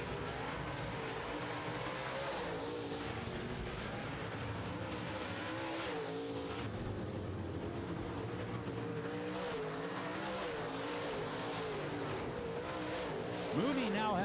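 Late model race cars circle a short oval track in a feature race, a steady roaring drone of several engines with rising and fading passes, heard at a distance beneath an announcer's commentary.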